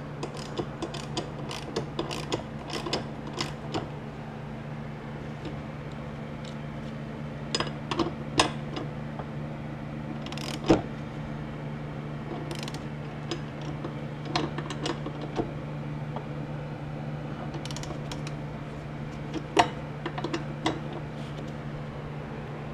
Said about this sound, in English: And then we're going to use our socket.